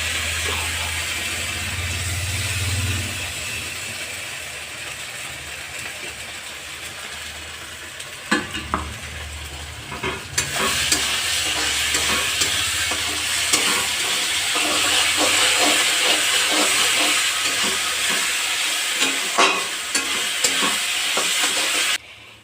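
Ginger, garlic and onion paste hits hot oil over already-fried onions for a chicken curry, giving a loud, steady sizzle with scraping stir strokes and sharper bursts, and a low hum early on.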